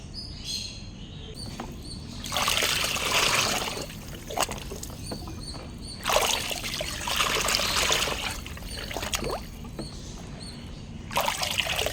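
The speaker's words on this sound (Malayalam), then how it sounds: "ഞാനിപ്പോൾ ഇതിലേക്ക് ഒഴിക്കാൻ പോവാണ്" Liquid fish fertilizer pours into a bucket of water in several bursts, a splashing trickle rising and falling, with faint birdsong in the background.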